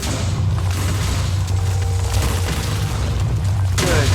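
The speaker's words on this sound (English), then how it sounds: "there's really just a bunch of satisfaction with blowing a bunch of junk up" Repeated booming explosions blowing up junk in the Minecraft video game, a continuous rumbling barrage of thuds and blasts close by with no talk.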